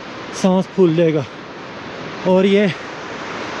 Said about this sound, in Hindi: साथ में वही पानी का शोर आपको सुनाई दे रहा होगा।